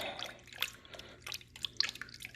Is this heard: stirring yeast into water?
yes